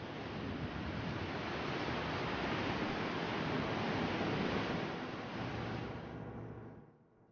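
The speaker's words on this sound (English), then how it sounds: "The wind blows at 20 meters per second, almost like a typhoon" A dense, steady roar of rushing wind and spray at Victoria Falls on the Zambezi River, typhoon-strong wind driven by the waterfall, loud and unbroken, fading out over the last second.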